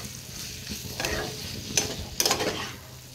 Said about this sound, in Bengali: আর এখানে আমাদের জন্য আলু দিয়ে সয়াবিনের তরকারিটা হচ্ছে